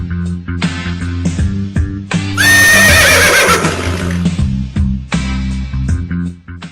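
A horse's neigh is inserted as a sound effect: a loud, shrill whinny rising out of the middle of a musical backing, with the music carrying on around it.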